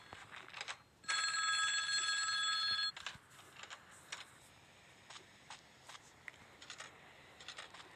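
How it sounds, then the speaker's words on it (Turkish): An electronic telephone bell rings once in a hotel room of the video game Bear Haven, a bright steady trill lasting about two seconds, then quiet clicks and soft footsteps follow. "hangi odalı telefon çalıyor"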